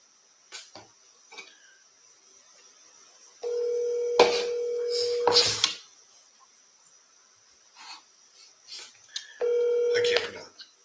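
A phone dials out a call: two sustained electronic tone bursts, each lasting a second or two, with scattered faint clicks and taps around them in an otherwise quiet room.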